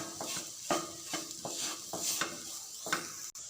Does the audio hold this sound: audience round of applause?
no